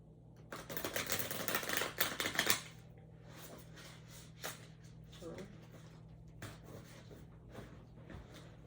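A loud burst of rapid riffling clatter as a deck of cards is shuffled on a loud table lasts a couple of seconds. Quieter handling and talking follow.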